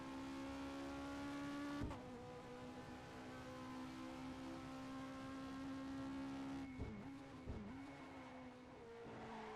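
An F1 race car engine in a video game drones at high pitch, holding a steady whine with brief dips as it shifts up through the gears and briefly squeals, sounding close and continuous.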